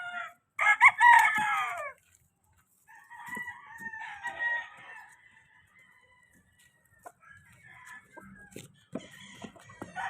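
A rooster crows loudly up close, followed by softer crowing and scattered clucks from nearby chickens, with quiet gaps in between.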